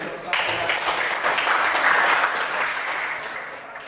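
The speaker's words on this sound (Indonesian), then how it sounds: "sekali lagi kita kasih aplaus dulu untuk kelompok" A room of participants at a teachers' training session applauds a group, dense clapping that starts abruptly, stays loud and even for several seconds, then tapers slightly near the end.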